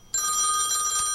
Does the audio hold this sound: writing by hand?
no